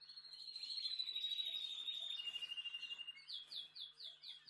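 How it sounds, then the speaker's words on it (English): Birds sing close by with a sustained high whistling call, followed by a rapid series of repeated chirps, over a faint steady background hum. "The birds started singing."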